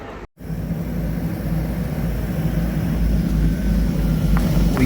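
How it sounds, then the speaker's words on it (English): An airplane preparing for takeoff on a departure from Curacao, heard from inside the cabin as a steady, loud, low engine drone that builds slightly after a brief dropout at the start. "The plane is getting ready to take off."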